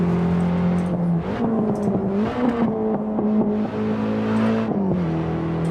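Race car engine in Assetto Corsa on the Nordschleife, a steady tonal drone that jumps in pitch and revs sharply on a wrong downshift, then settles, loud and continuous.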